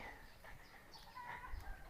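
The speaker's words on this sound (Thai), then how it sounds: "เสียงไก่กำลังออกไข่" A chicken clucking while laying an egg, heard in rural village surroundings near a house with mango trees: soft, scattered clucks over faint ambient noise.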